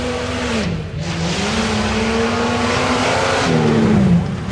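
A four-wheel-drive tuff truck roars loudly through its qualifying run at a Disorder at the Border event, the engine note holding steady and climbing as it revs, sustained and close throughout.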